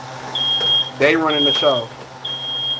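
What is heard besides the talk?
smoke detector beeping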